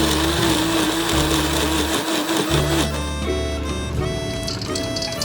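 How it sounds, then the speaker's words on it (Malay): Dried shrimp and water whir in an electric blender, a loud steady motor drone that dips briefly midway, then climbs to a higher, smoother pitch as the paste grinds fine. "Tambahkan air secukupnya dan kisar sehingga halus."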